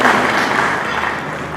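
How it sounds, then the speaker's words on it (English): A church audience at a diocesan finance policy launch claps hands together in steady, dense applause that continues throughout. "let us clap hands for the Bishop"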